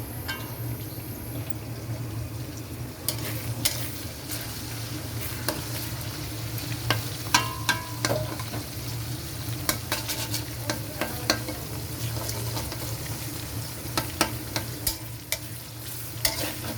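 Egg white stir-frying in a pan for vegetable chow mein, a soft continuous sizzle broken by frequent sharp scrapes and taps of a spatula against the pan, close and without talk.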